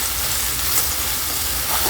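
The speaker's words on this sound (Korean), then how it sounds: "그 다음 중강불에서 볶아줘요." Chicken dakgalbi stir-frying in a pan over medium-high heat, a steady close sizzle with faint stirring scrapes that holds evenly throughout with no voices.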